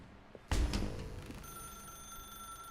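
A telephone rings once, loud and close, in the video game The Stanley Parable, leaving a steady electronic tone that hangs on afterward.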